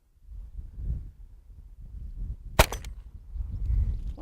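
A single pistol carbine shot fired at an outdoor shooting range, one sharp crack standing out against steady wind and low rumble.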